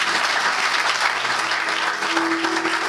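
Loud, sustained applause from a church conference audience acclaiming the king, a dense steady clapping crowd filling the space throughout.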